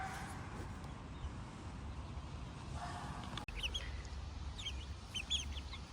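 Chicks in a garden poking around an ant nest, with soft scattered clucks and chirps over faint outdoor background noise, growing a little busier toward the end.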